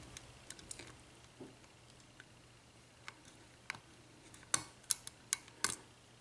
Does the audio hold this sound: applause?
no